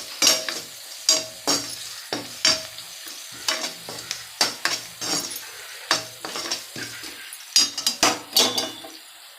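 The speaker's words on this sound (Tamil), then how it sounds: "கருவேப்பிலையும் நல்லா வதங்கட்டும்." Curry leaves sautéing in a pan while a spatula stirs them, giving a steady sizzle broken by frequent sharp metallic scrapes and taps in an irregular rhythm, close and clear with no voices.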